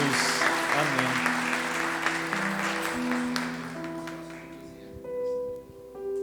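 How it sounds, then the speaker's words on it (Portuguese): A church congregation applauding during a celebration service, sustained clapping spread across the hall over sustained music, easing off as a voice speaks near the end. "Você pode aplaudir o Senhor?"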